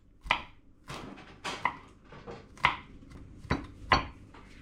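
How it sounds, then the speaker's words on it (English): A knife chops and minces six or seven garlic cloves for Vietnamese banh xeo. The close, crisp blade strikes on the board come in an uneven rhythm of single and doubled hits, with no talking. "So I have here like about 6-7 cloves of garlic. Chop it, kind of mince it."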